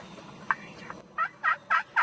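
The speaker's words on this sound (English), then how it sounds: "There's 3 turkeys up there." Wild turkeys gobble from a distance, a brief note and then a run of quick rattling gobbles repeating at a steady pace.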